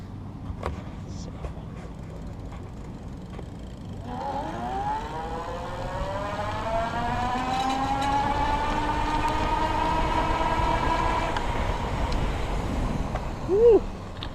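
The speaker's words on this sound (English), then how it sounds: "I'll cruise around and you can see and hear the motor in action" A 2015 IZIP E3 Zuma electric bike's motor whines while riding, its tone gliding steadily upward and holding as it speeds up, set against steady wind and road rumble, with a brief chirp near the end.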